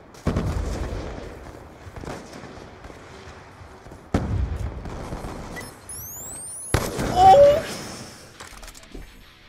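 Gunfire from Call of Duty Black Ops 2 gameplay: a few sharp shots spaced across the stretch, each with a booming tail, then a denser, louder burst of effects near the end.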